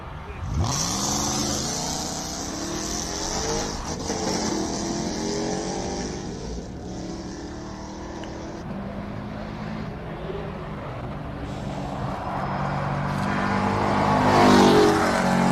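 Hill climb race car launches hard and accelerates up the course at the Simola Hillclimb, its engine note rising and sweeping in pitch, heard over continuous commentary from announcers talking throughout.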